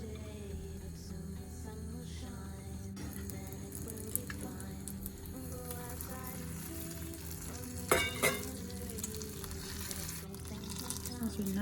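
Butter and chocolate melting in a pan while being stirred, a steady low sizzle with soft scraping and patter throughout, close by, with a brief louder scrape near the end.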